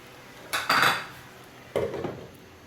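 A metal lid clanks onto a cooking pot of tomato chutney in two distinct clattering contacts, close and crisp, with no voices.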